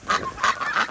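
Farm ducks in snow give three quick, close, loud honking quacks in a short burst, with no talk over them.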